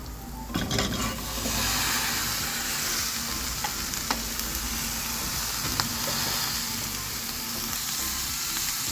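Washed cauliflower drops into hot oil with browned turmeric powder and sizzles steadily, a continuous close frying hiss with a few faint clinks of a utensil against the pan.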